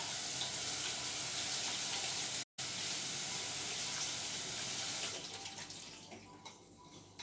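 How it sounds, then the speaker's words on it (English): Steady broadband rush of tap water runs over ingredients being rinsed in a home kitchen, continuous and fairly close, briefly cut out once and easing slightly toward the end, with no talking. "Just give these a quick rinse."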